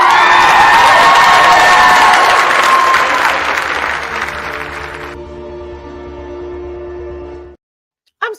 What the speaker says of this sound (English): That was a whoop and then a cheer